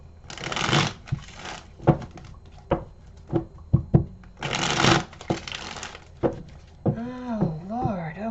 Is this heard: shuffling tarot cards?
yes